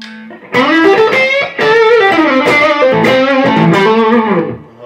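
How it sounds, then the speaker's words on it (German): Electric guitar driven through a PCL Vintage Stagemaster 60 mini amp head, played with heavy distortion in a bluesy rock style, with sustained chords and notes ringing loud and close over about five seconds. "Und habe wieder meine Verzerrung."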